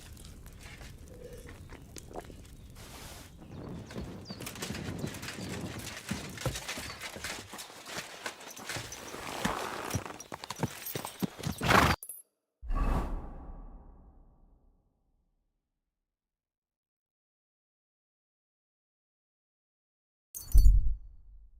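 Horse hooves clip-clop in the medieval open-world video game Kingdom Come Deliverance 2, a busy run of hoof steps with swishing movement that cuts off abruptly, followed by near silence and a brief final thud.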